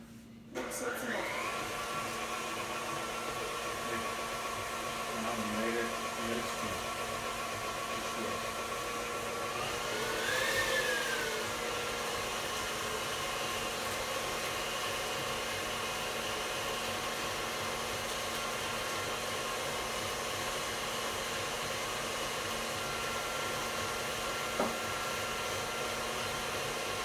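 Electric mixer whirring continuously as it blends ingredients toward the flour stage, a steady close motor hum with a brief pitch change partway through, running alone without voices.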